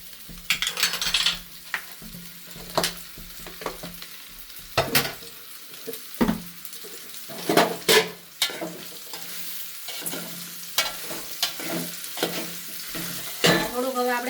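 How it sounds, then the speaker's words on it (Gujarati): A spoon stirs a palak methi muthiya mixture in a pan, giving a series of irregular metallic scrapes and clinks over a low sizzle, close and clear, with no talk. "હલાઈ લેશું આપણે એને થોડીક વાર રેવા દેશું"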